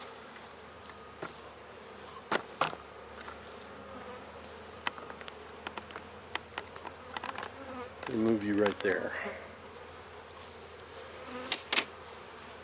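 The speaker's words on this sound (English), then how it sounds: "Bad thing is I'm now standing in the middle of the bee run. So this is where they fly." Honey bees buzz continuously around a hive, with some flying close past in louder swells and others droning farther off. A person speaks briefly partway through.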